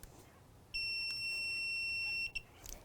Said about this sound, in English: And it beeps.